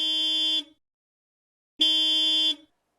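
A car horn sounds two long, loud blasts separated by a short silence, nothing else heard.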